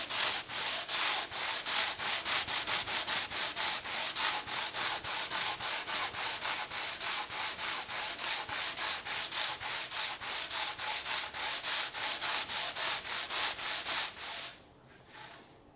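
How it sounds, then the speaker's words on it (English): By-hand scrubbing of a Yamaha P22 school piano's key lock assembly under a flat palm, a steady, close, rhythmic rubbing of fast back-and-forth strokes for about fifteen seconds, stopping abruptly near the end. "basically you just have to put your palm down on it and just scrub the hell out of it"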